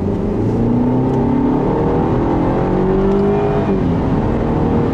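A 2012 Mercedes-Benz C250's four-cylinder engine pulls steadily and loudly, its pitch rising and shifting as it accelerates, heard up close from inside the car.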